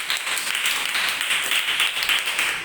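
Children in a Sunday school class clap steadily in a dense, continuous round of applause, close and fairly loud, with no talking over it.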